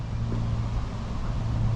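Steady low wind rumble buffeting the microphone, constant and fairly loud throughout, with no voices.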